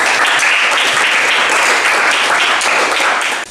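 A class in an automotive engineering lesson breaks into applause, a short, loud, dense burst of clapping from many hands that cuts off abruptly after a few seconds.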